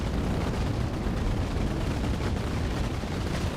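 Dense, continuous chain-gun fire from spaceships in the space game Cosmoteer, a loud, unbroken roar of rapid shots and impacts with no pauses or talk.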